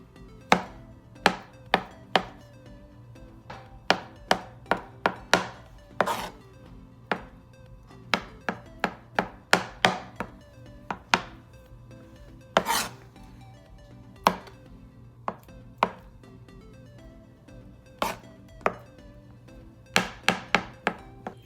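Knife chopping a boiled egg into small pieces on a cutting board, a series of sharp, close taps in irregular bursts over a low steady background hum, with no talking.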